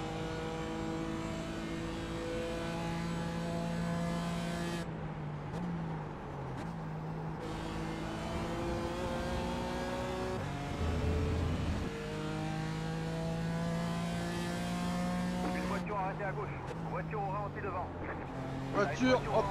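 Race car engines in the iRacing sim during a GT4 race, a loud sustained drone with rising and falling rev tones and gear changes, cars close by, with people talking over it.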